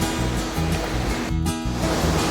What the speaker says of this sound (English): How's that for a waterfall?